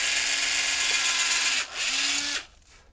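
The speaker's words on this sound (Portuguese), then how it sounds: "pego, ó, a minha parafusadeira ou furadeira, se preferirem, e faço um pequeno orifício" Cordless drill-driver whirring at high speed as it bores a small hole in a piece of wood for a rivet in a homemade doorbell project, one steady loud run with a brief dip partway, then winding down and stopping.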